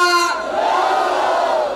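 At the Juhu Koliwada seafood festival, a single leading voice briefly calls out, then a large crowd answers with a loud, sustained roaring chant that fills the rest of the moment.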